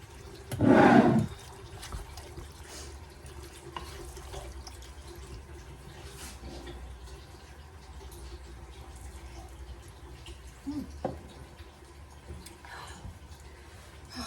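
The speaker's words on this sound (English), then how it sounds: "I turned the water on, some hot water real quick so that I can get that bowl rinsed out." Hot water runs from a kitchen tap to rinse out a bowl, a brief loud gush at the start followed by a low, steady trickle and faint clinks.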